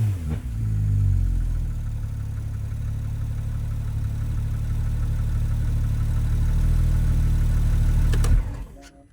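Rebuilt Porsche GT4RS engine that had been wrecked and blown, idling steadily up close with a low, even drone for several seconds before cutting off abruptly.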